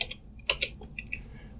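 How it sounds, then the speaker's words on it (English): Quick keystrokes on a computer keyboard clatter in a short, uneven burst as words are typed into Notepad, fairly faint and close with no voices. "if I just start typing anything in the Notepad, for example hello world and something like that"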